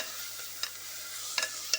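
Masala fries in a little oil in a pan, a soft continuous sizzle broken by a few quick stirring scrapes, close and alone with no voices.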